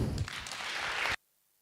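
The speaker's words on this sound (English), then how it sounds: "please once again applaud them" A logistics conference audience applauds the plenary speakers as they receive certificates: soft, fairly distant clapping that lasts about a second and then cuts off abruptly into silence.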